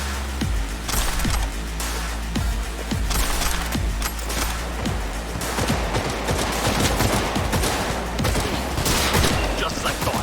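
A dense, continuous fusillade during a Cyberpunk 2077 firefight against a squad of attackers: overlapping rifle and machine-gun bursts crackling without pause under a constant roar, with occasional voices mixed into the chaos.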